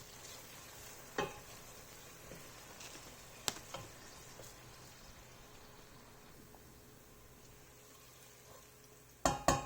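Onions fry in about half a cup of oil for chicken Bombay biryani, a soft, steady sizzle broken by occasional utensil clinks and a louder clatter of pan contact at the end.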